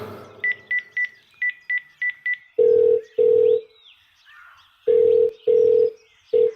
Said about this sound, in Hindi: मानव को फोन लगाता हूं।